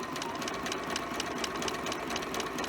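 A sewing machine stitching back over the edge of a quilt appliqué, running at a steady, fast rhythmic whir with an even mechanical clatter close by.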